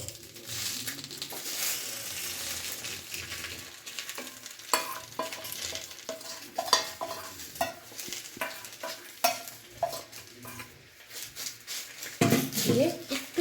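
Chicken mixture goes onto a hot banana leaf, sizzling and crackling while a utensil scrapes and spreads it. The clatter comes in irregular bursts over a steady fry, close by, and faint speech is heard.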